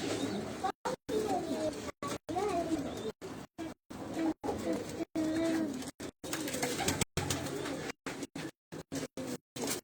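Racing pigeons coo softly in a loft, low repeated throaty calls over background noise, with someone speaking throughout and frequent brief dropouts in the sound.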